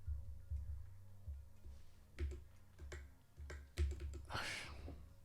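A computer keyboard gives a few sparse, quiet key clicks during a programming session, sitting over a low steady electrical hum.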